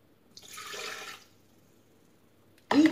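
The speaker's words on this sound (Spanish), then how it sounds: "Y vamos a poner también 200 gramos de agua." Water, 200 grams, being poured into a sweet and sour sauce in a kitchen appliance: a soft, short rush of liquid splashing for under a second, followed by quiet and a brief louder clunk at the end.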